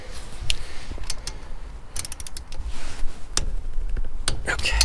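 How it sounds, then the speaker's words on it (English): A torque wrench tightens front brake bolts on a 2009-2018 Ram 1500, with several sharp ratcheting clicks and metallic mechanism taps in close, irregular bursts. "got our torque wrench dialed in here"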